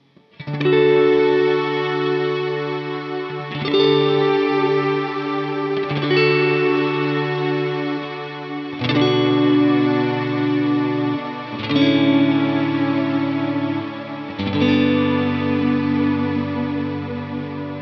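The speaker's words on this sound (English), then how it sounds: "there you get this really nice string kind of ensemble pad sound along with your playing" Sustained guitar chords through a Strymon Cloudburst ambient reverb pedal ring out one after another, each swelling into a shimmering, chorused string-ensemble pad with a lush reverberant wash, loud and without voices.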